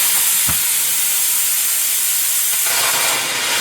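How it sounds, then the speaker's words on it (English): Steam hisses loudly and steadily out of a pressure cooker of dal for sambar, a strong continuous jet of vented pressure with a brief knock near the start. "We're going to let some pressure out."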